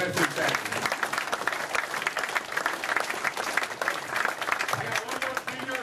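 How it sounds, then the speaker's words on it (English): At a Jasper basketball celebration, a crowd gives a lively round of applause for the basketball greats, with crisp clapping throughout and voices mixed in under it. "give them all a round of applause, because that's fantastic"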